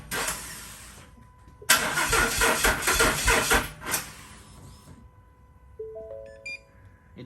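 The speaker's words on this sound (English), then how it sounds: "We're going to turn it over twice, and then we're going to actually try to start it." A Ford Mustang engine cranks in two rhythmic bursts, a short one and then a longer, louder one, without catching; a few faint electronic beeps follow.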